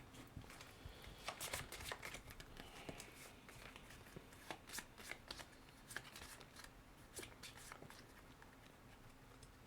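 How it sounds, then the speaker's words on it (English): Playing cards shuffled during a tabletop game: soft, quiet riffling and scattered crackly flicks repeating for several seconds, close by in a calm room. "And then I will shuffle these two"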